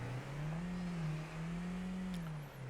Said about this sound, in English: Let's hop in the car here. Let's go for a drive and just kind of drive around here.